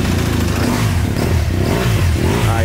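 A BMW R1200 motorcycle engine starts and revs up, loud and close, its rough mechanical roar and rattle running continuously through the whole stretch without talk.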